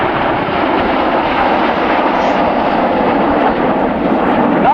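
Red Arrows display jets at RIAT 2006 produce a steady, loud, continuous engine roar that holds evenly throughout, with no talk over it.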